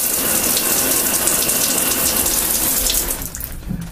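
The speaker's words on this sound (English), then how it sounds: "when I open the valve, the water comes out of the shower head." Water from an opened valve streams steadily out of a home shower head in a loud, continuous hiss that trails off near the end; no talking.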